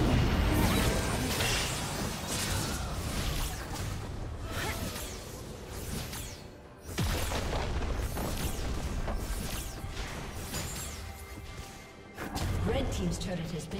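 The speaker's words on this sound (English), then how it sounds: "Red team's turret has been destroyed." In League of Legends, a mid-lane match between Ahri and Morgana, a turret is destroyed amid dense game combat: a continuous roar of crashes, booms and whooshing effects, with brief drops in the din.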